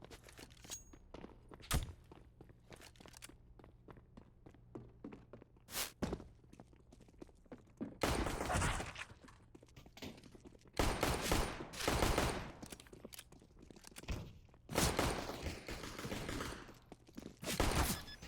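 Gunfire in a Counter-Strike esports match, including Glock pistol shots. Sharp isolated cracks come early, then louder dense bursts of rapid shots arrive in clusters, with footsteps in between.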